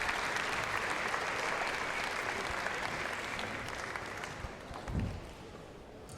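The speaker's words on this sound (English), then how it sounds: "And a nice applaud for the crowd." Crowd applauding after a badminton mixed doubles match, a steady wash of clapping from a distant arena audience that gradually thins toward the end.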